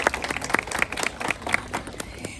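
Applause for zoo authority board members at a grand opening ceremony for an Asia exhibit at a Fresno zoo, a modest, scattered round of clapping from a small crowd, fairly distant and fading.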